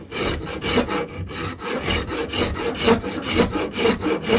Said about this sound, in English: for this part I'm just going to use cabinet rasp